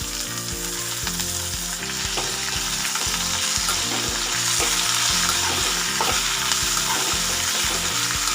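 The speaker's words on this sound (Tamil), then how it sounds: "சேர்த்துட்டு இப்போ இதை நல்லா வதக்கி எடுத்துக்கலாம்" Mint and curry leaves sautéing in a pan with salt, a loud continuous sizzle and crackle under a rhythmic low thumping of stirring, close up with no speech.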